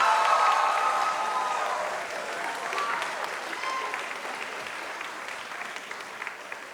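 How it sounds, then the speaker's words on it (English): An audience claps at a jazz event, a broad patter of many hands that is fairly loud at first and then gradually thins and softens toward the end. "So give yourselves a round of applause."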